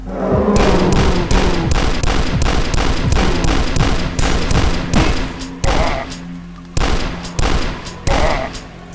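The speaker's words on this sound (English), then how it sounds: "Chunky gunshots." Chunky gunshots from the retro-styled shooter video game Dusk fire in rapid, loud bursts, a dense run of punchy blasts that thins into spaced shots toward the end.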